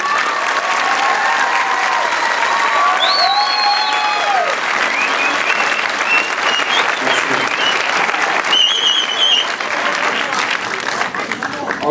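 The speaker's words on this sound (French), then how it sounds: "Vous allez me faire un tonnerre d'applaudissements" Loud, sustained applause from a crowd at an outdoor community festival in Romainville celebrating the Carnation Revolution, with whistles and cheers mixed in, steady for the whole stretch.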